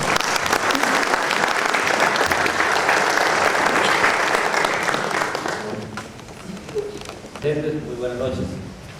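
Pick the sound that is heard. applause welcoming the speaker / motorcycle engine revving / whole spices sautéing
applause welcoming the speaker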